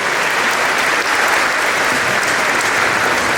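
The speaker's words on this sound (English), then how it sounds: "one more big round of applause" An audience applauds an elementary school district honor orchestra at a festival concert, a dense and steady round of clapping throughout, loud and close with no talk over it.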